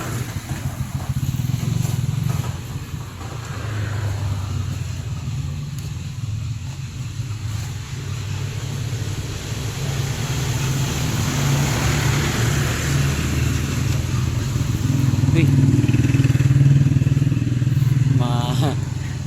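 A motorcycle tricycle engine rumbles past outdoors, its low drone growing louder toward the end, with wind noise and someone talking over it.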